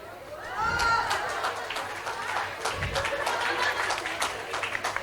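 An audience at a Carnatic music and yoga event claps along to music in a steady rhythm, a soft patter of many hands with faint voices mixed in.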